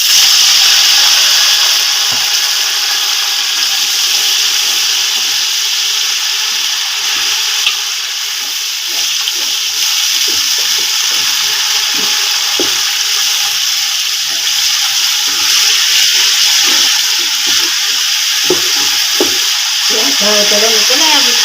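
Browned onions sizzle and bubble hard in a pot after water is poured in while making degi biryani, a constant loud hiss with scattered spits and scraping stirs from a utensil.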